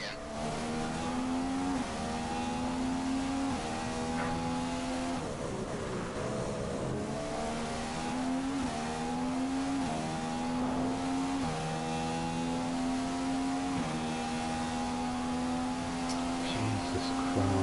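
F1 2015 race cars screaming on track in the PS4 game, a loud, continuous high-revving engine note with repeated upshifts and rising pitch sweeps, close and constant throughout.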